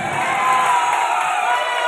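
Audience at a live Odia comedy show erupting into a short, loud burst of clapping and cheering, a dense crowd roar that holds steady for a couple of seconds.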